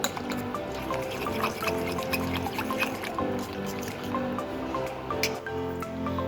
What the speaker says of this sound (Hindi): सब चीज़ों को अच्छी तरह से मिक्स करते हैं।